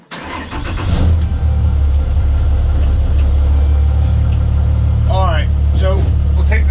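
A Dodge Ram truck's Cummins diesel engine starts and settles into a loud, steady idle close by, with a deep continuous rumble and brief chirping squeals near the end.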